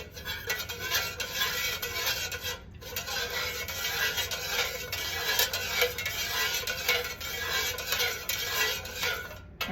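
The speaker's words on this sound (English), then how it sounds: "We're gonna give that a few more stir there." Candle wax mixture being stirred in a container, a steady scraping and clinking of the utensil against the sides, continuous and close throughout with no talking.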